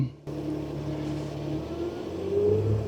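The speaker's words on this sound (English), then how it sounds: "Oh yeah, we're started. Yes. Look at the RPMs go up." Diesel Sprinter van engine in extreme cold: it catches with a sudden start, then settles into a steady idle drone that rises slightly in pitch as revs climb.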